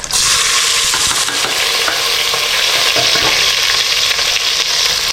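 Green chillies, bay leaves and onion fry in a hot pan for a Karnataka-style tomato bath, a loud, steady sizzle with scraping stirring sounds throughout and no talking.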